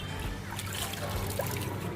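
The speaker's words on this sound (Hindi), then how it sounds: "तो अब मैं इसमें दूंगा थोड़ा सा पानी" Water is poured from a container onto a potted plant cutting, a steady soft trickle and splash that stays quiet and close throughout.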